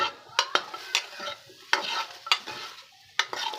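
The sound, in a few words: taro root (arbi) frying in a hot wok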